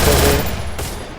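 A brief, loud burst of gunfire from a long-range gun in the Free Fire video game, a single close rattling volley fading quickly, with no talk.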